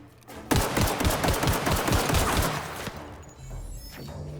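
Rapid automatic gunfire in The Outer Worlds video game, a dense burst of close, loud shots lasting about two and a half seconds, then a quieter rumbling tail.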